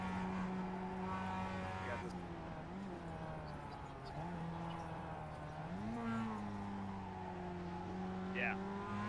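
Several Porsche race cars in the iRacing sim racing game at Mosport drone steadily with layered engine tones, pitch shifting as they shift gears, a continuous close roar with a brief tire squeal near the end.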